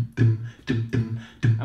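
An a cappella singer's vocal bass makes a tight, percussive 'dum' sound, imitating a bass note with a sharp 'd' start. Four clear, evenly spaced hits come close and alone.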